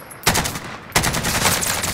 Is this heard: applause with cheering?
no